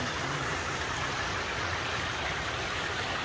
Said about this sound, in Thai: บ้านใหม่มีที่อันนี้น้ำตกเล็ก